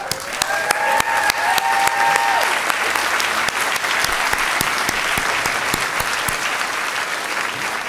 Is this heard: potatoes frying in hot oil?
no